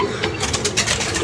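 A pigeon coos in a rapid, throaty run of repeated notes, close and loud against a busy outdoor background.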